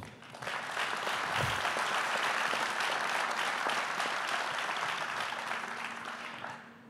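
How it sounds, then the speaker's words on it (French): A conference hall audience at a MEDEF Savoie business event applauds Geoffroy Roux de Bézieux, with a full, steady round of clapping that swells quickly, holds loud for several seconds, then fades. "je crois que nous pouvons l'applaudir"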